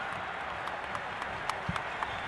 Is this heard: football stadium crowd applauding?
yes